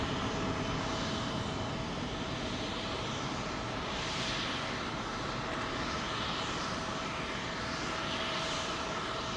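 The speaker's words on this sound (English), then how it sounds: "Okay, so 2 Swiss jets." Jet engines of two Swiss airliners at London Heathrow Airport on runway 27L, a loud, continuous roaring whine that holds steady throughout, with slow pulsing swells in the higher hiss and no voices.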